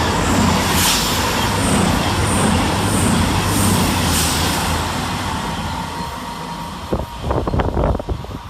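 Two Class 221 diesel trains in multiple hum steadily past Stechford railway station on a Birmingham New Street to London Euston service, a sustained rumbling drone with whining tones that fades before a burst of clattering knocks near the end.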